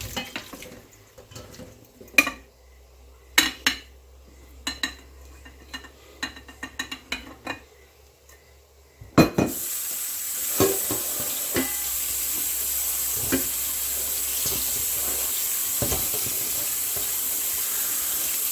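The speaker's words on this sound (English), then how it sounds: "we're just gonna drain these out and give them a quick rinse to get that salt off them" Salted cucumber slices being drained and rinsed, with scattered clattering and sloshing at first, then a kitchen tap turned on that runs in a steady, close, loud rush of water for the rest of the stretch.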